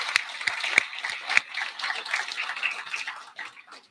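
Applause from a conference audience at a game design talk, with scattered distinct hand claps over a thinner wash of clapping that swells and then trails off.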